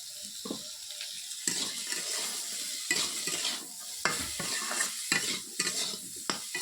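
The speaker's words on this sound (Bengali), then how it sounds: "নুন দিয়ে ভালো করে একটু নাড়িয়ে নিলাম" Salted bitter gourd is stirred in a frying pan, a close, moderate sizzle with intermittent scraping strokes and rustles from the utensil at an uneven rhythm, with no talking.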